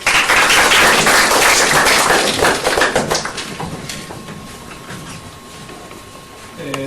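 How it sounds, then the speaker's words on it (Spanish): A strong burst of audience applause welcoming a speaker at a university forum on mining taxes in Ecuador, loud and dense at first, then thinning out and fading over several seconds. "Demos un fuerte aplauso al ingeniero Gallegos."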